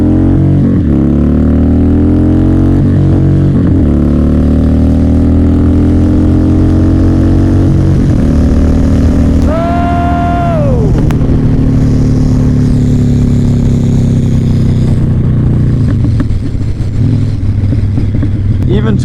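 A Harley-Davidson cruiser motorcycle's exhaust pipes rumble loudly and continuously as the bike accelerates hard, with rising engine pitch sweeping up through gear changes, heard close and steady throughout.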